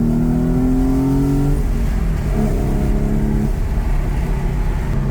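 A Porsche 911 engine revs and accelerates loudly nearby up a ramp, the pitch climbing and shifting through gears over steady road noise.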